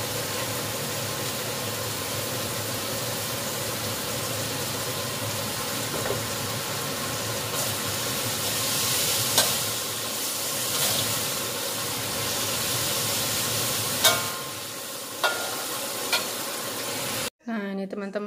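Spring onions stir-fried in chili sambal sizzle steadily in a pan, a constant close frying hiss with occasional scrapes and clinks of the utensil, cut off near the end by a brief clatter.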